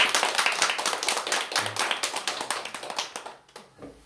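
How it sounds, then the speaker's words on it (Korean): A church congregation claps for visiting guests during a Korean worship service, a brisk burst of distinct, fairly close handclaps with a crisp tapping rhythm that thins out and stops near the end. "우리 그분들 위해서 박수 한번 쳐주세요"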